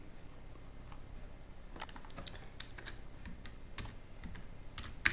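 Keys on a computer keyboard being typed, a quiet scattered run of clicks in uneven bursts, close by and without any talk.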